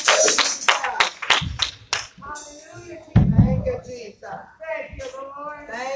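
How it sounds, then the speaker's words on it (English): A church congregation claps hands in praise during a worship service, quick bursts of clapping mixed with shouting voices and singing, loud and close. "let's give God a hand clap of praise for the leader of this great house"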